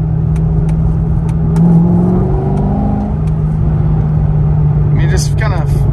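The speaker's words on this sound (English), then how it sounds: "third gear we'll do just to give us a little better feel" A Chevrolet Corvette C6 or C7 accelerating in third gear on a public road, a loud, steady engine drone with a rising pitch heard from inside the car, with a person talking over it.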